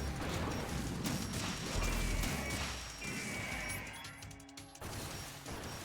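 Continuous booming crashes and blasts in the video game Metal Gear Solid 2 fill the clip, dense and loud, with metallic clanks and rumbling layered together like chaotic combat.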